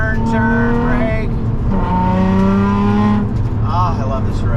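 A race car driven hard along a winding road, its engine revving up and down through gears as it brakes and accelerates into corners, loud and close, with someone talking over it.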